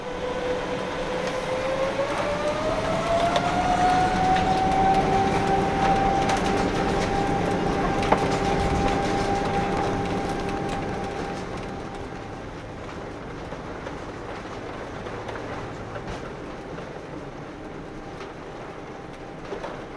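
An Emirates airliner rolls down the runway for takeoff, heard from inside the cabin as a rising engine whine over steady rumble and rattling, loud and continuous, then easing slightly later, with no talking.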